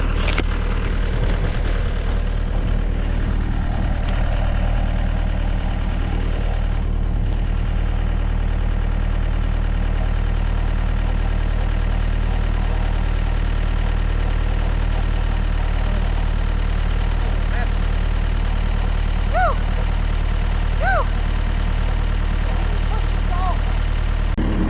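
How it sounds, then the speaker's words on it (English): Stump grinder engine idling with a steady low drone throughout, near and constant, with faint voices and a few brief higher tones over it. "I can turn the stump grinder around and push it"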